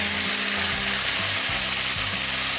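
Green onions fry in a pan as sukiyaki sauce goes in, producing a continuous loud sizzle with no pauses, close up and without speech, with a few light scraping stirs underneath.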